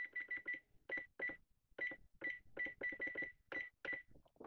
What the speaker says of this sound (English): Set my timer for 20 minutes.